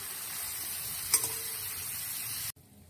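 Meat being stirred into a pan of fried lemongrass, shallot and garlic gives a steady, close sizzling hiss with one brief scrape of the utensil, then cuts off abruptly near the end.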